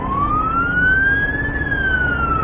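A fire engine siren wails steadily in Saudi Arabian traffic, its pitch gliding slowly up and then back down, loud and close over a low traffic rumble.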